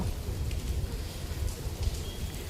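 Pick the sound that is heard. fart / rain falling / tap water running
rain falling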